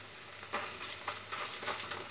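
Stirring sizzling onion, tomato and pepper paste in a pan for a spinach soup, soft repeated scraping strokes over a steady quiet frying hiss.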